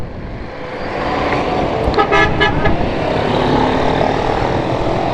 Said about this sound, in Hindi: और ये रहा ट्रैफिक यहाँ से आने वाला।